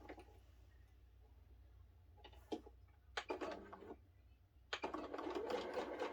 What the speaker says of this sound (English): you're going to sew it.